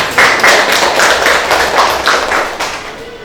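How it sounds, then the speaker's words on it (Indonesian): Students in an accounting class clap after a presentation, a brief burst of close, rhythmic hand claps from a small group that fades out near the end. "tepuk tangan buat"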